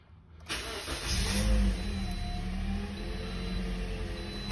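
A 2012 Toyota Corolla with a 1.8L engine cranks briefly and catches, then settles into a steady close idle after belt retensioning, with no squeal.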